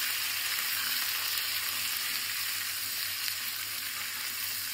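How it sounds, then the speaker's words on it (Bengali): Potatoes lightly frying in a pan after the tempering, a soft, even sizzle running steadily throughout, no voices. "আলুটা হালকা করে ভেজে"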